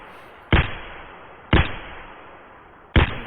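Three loud, sharp gunshots from an enemy scav in Escape from Tarkov, evenly spaced about a second and a half apart, each cracking hard and then trailing off in a short echoing decay.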